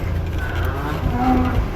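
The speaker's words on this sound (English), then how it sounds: "we got cows going out for the night" Milking cows being let out to pasture for the night from a barn, with a steady moo and shuffling herd noise close by amid a continuous low rumble.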